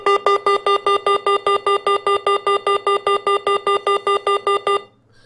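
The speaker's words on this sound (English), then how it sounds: "We're just breaking it real quick, and it makes the alarm go off." An Arduino laser trip wire alarm sounds a loud, rapid series of identical electronic beeps in a fast regular rhythm, about twenty pulses before cutting off abruptly near the end.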